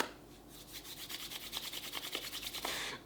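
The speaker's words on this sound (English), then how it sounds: "I'm just rubbing my hands because it's time." Palms rub together in a steady back-and-forth rhythm, a soft close brushing swish repeated many times, quiet and alone.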